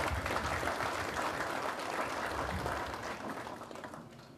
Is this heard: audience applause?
yes